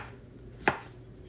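A single quick knife stroke cuts through fish cake on a cutting board while fried rice is being prepared, one faint, sharp chop in an otherwise quiet kitchen.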